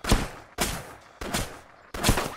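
Four loud gunshots ring out in the DayZ Origins mod, evenly spaced about half a second apart, each a sharp crack with a brief echoing decay.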